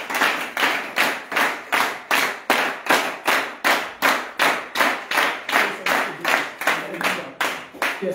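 A church congregation at a worship service claps together in a steady, regular rhythm of about two claps per second, sharp and continuous throughout, with no voices standing out.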